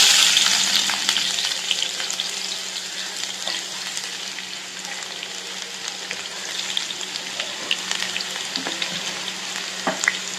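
Chopped onions hiss and crackle in hot oil in a pan, a bright continuous sizzle with occasional stirring scrapes, loudest at first then settling, and no one speaking.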